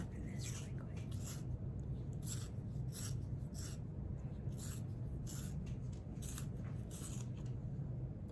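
Close rhythmic scraping of a yellow-orange colored pencil turning in a small sharpener, a steady series of short rasping strokes repeating about every half second, with a faint background hiss.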